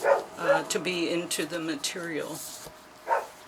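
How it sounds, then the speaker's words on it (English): Dogs bark repeatedly indoors, a run of sharp yips and barks that carries under a man's ongoing speech. "I apologize for my dogs barking."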